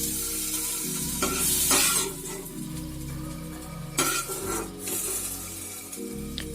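Potato and eggplant pieces sizzle steadily in a pan while being stirred and scraped, with a continuous hiss under a low hum and a few brief clinks.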